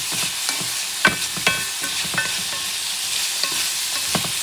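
Habaneros and a generous amount of garlic sautéing in a pan, a bright, close sizzle with intermittent stirring scrapes and small pops, steady and fairly loud.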